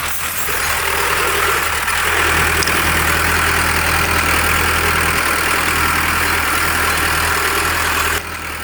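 A 55 HP tractor pulls an 11-tyne cultivator through hard soil, its engine giving a loud, steady, close drone that drops slightly near the end.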